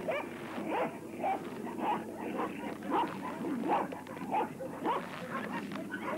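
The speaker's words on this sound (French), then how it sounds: "116 chiens de traîneau particulièrement bien entraînés l'accompagnèrent dans cette aventure" A team of sled dogs barks and yips repeatedly in an irregular chorus, the calls fairly close and steady across the scene with no talking.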